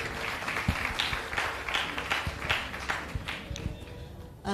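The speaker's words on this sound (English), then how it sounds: "let's give him a big round of applause for that." Audience applause at a sales masterclass workshop and expo, a dense wash of clapping spread through the room with a few sharper claps standing out, steady for several seconds before cutting off abruptly.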